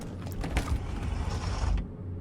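A powered door in the post-apocalyptic video game Wasteland 3 grinds open with a continuous mechanical creaking and whirring, loud and close, that runs for about two seconds before cutting off.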